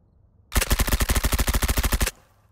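In a video game, a CAR-15 rifle empties a full magazine in one rapid, evenly spaced burst of about twenty loud shots lasting under two seconds, followed by quiet.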